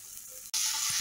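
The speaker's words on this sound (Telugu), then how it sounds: "పచ్చి వాసన పోయేదాకా బాగా ఫ్రై చేయాలి." Ginger garlic paste frying with softened tomatoes in a pan: a soft sizzle that cuts out for an instant, then returns as a louder, brighter hiss with a small clatter at the very end.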